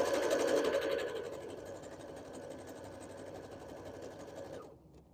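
A sewing machine runs steadily during a boho bead crafting session, a continuous buzzing whir that is loudest at the start and stops abruptly near the end.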